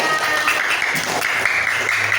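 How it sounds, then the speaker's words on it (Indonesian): Steady clapping from a fourth-grade elementary school class, dense and continuous for the whole stretch, with a faint voice or two underneath. "Kasih tepuk tangan untuk kita semua."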